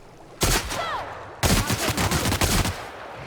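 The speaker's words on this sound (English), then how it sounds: "Let's sneak up on this guy and shoot him right in the face." Rifle fire in the video game The Outer Worlds: a sharp, loud shot followed a second later by a second burst of rapid, closely spaced shots and impacts, with no talking over it.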